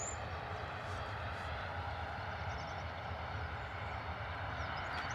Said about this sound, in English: A320 Neo off to Funchal